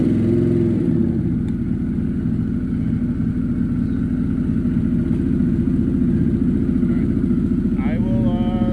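A Harley-Davidson Pan America motorcycle engine running at a loud, steady high idle up close, its rapid pulsing continuous throughout, with a stator fault and ticking.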